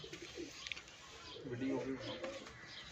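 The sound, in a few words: pigeons cooing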